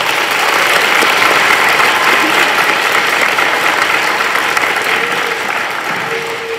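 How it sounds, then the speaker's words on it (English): Sustained applause from an audience at an elementary school Veterans Day performance, dense and steady clapping filling the room throughout, easing slightly near the end. "Students with a big round of applause."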